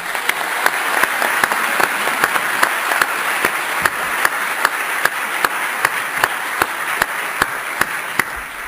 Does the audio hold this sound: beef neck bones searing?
no